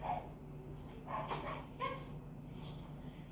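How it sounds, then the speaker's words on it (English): A dog yips and whimpers a few times in the background, short high-pitched sounds that come and go over low room noise. "You can hear the other dog barking"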